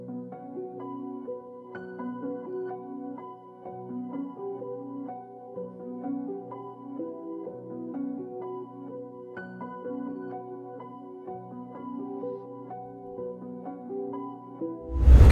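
A dark ambient melody processed with halftime, a reverser effect, Valhalla Space chorus and low-cut EQ, sounding slowed, soft and washy with repeating notes and smeared tails, steady and moderately quiet, ending in a brief louder burst.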